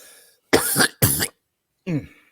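Two close, loud wet coughs in quick succession, followed after a pause by a shorter throaty cough or rasp.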